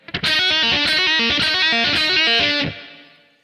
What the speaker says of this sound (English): the next part is this hammer on, hammer off lick that goes like this